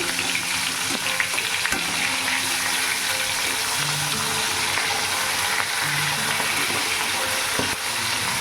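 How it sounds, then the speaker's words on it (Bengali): Fish fries in a pan with a loud, steady sizzle that holds for the whole stretch, with occasional light clicks and small bubbling spurts. "মাছটা ভেজে নিচ্ছি"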